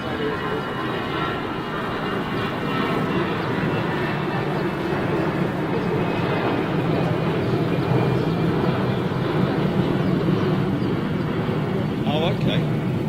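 A freighter jet aircraft passing overhead, a steady broad roar that holds loud throughout, with voices faintly under it.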